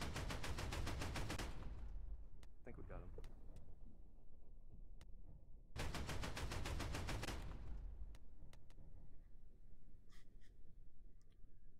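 Automatic gunfire in a VRChat military simulation operation: two long, rapid close bursts separated by quieter scattered single shots and distant pops.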